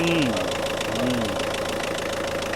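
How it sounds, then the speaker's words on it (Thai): A used Mitsubishi car engine runs and is revved, a loud close mechanical drone with a rattling knock, while someone talks over it. "เบิ้งเครื่องไปนี่"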